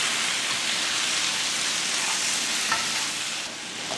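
Egg yolk being stirred gently into a hot frying dish on a home stovetop, giving a steady close sizzle with soft scraping strokes and no voices.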